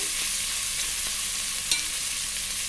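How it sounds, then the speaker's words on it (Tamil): Onions browning in a pan with ginger garlic paste for ghee rice, a steady close frying hiss with one sharp clink from a spoon, no voices. "வெங்காயம் ஒரு அளவுக்கு கொஞ்சம் ப்ரௌன் கலராக வந்ததுக்கப்புறம் நம்ம இஞ்சி பூண்டு பேஸ்ட்டு சேர்த்துக்கலாம்."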